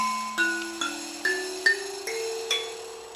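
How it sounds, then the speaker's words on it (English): Six plucked metallic tones from the left top keys of an mbira in a steady sequence, each a bright ring that decays quickly, stepping gradually upward in pitch; clear and alone with no voices. "we are going to use the left top keys, and they sound like this."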